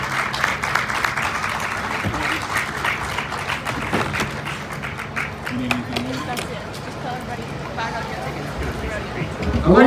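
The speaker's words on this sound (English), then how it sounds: "Let's give them another big round of applause" A county fair game show audience applauds and cheers in a crowd burst, with an announcer's voice talking over the clapping throughout.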